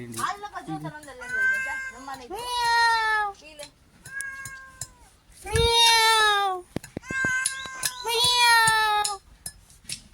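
A cat meows repeatedly, drawn-out and insistent cries close by, with short pauses between them and a few soft clinks.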